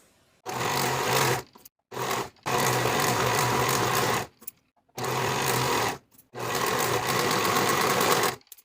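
A sewing machine runs in several long bursts with short pauses between, finishing the raw shoulder and side-seam edges of front and back tank-top bodice pieces, loud and steady with no talk.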